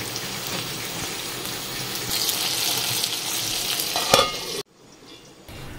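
Aubergine slices for baingan bhaja frying over a medium flame, giving a continuous dense sizzle with faint scraping, close and steady for several seconds before cutting off abruptly into near silence.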